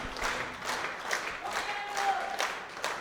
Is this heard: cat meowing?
no